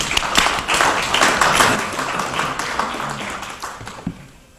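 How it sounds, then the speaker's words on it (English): An audience applauds at a Jewish heritage gathering in Essex County, a dense burst of clapping that starts loud and thins out over a few seconds. "please give him a round of applause."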